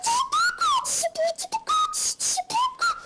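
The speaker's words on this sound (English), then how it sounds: "I brought along my trusty slide whistle." Slide whistle played in quick, bright gliding phrases, pitches swooping up and down in short choppy bursts, close and clear with no talking.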